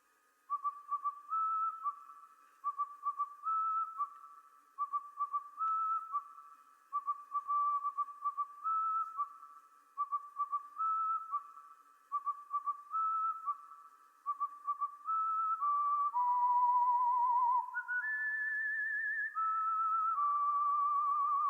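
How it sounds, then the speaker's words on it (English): A synthetic whistle lead from a stock FL Studio synth plugin plays a repeating melodic phrase in short, clean bursts, then glides into sustained notes near the end, alone and clear. "I wanted some whistle sound that can give you some vibe, yeah, and this is how it sounds"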